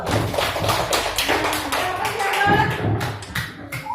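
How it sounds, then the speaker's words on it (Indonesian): A school class gives a classmate a round of applause: scattered, uneven hand claps, fairly close and loud, that thin out toward the end. "tepuk tangan untuk Akbar dulu"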